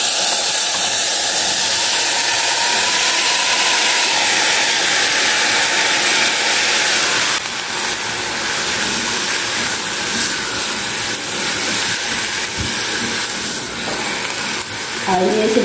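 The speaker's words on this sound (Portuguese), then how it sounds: "vou dar só uma refogadinha aqui no alho" Garlic sautés in a hot pan with a steady, loud sizzling hiss that softens midway, a faint clink near the end, and no clear talk over it.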